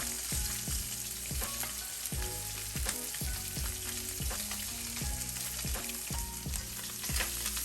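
Branzino fillet frying flesh side down in a pan, giving a steady close sizzle with repeated clinks and taps of utensils against the pan, no voices.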